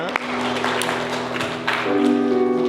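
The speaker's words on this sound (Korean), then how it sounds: "수고한 온유에게 격려 박수 부탁드리겠습니다." A church congregation applauds during a Sunday worship service, a steady wash of clapping with a sustained tonal sound and some voices underneath.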